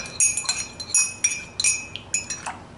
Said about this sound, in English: So I'm just going to stir that up.